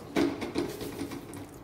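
Whey left from curdled milk pours into a pan in a few splashy bursts, close by, tapering into a softer trickle.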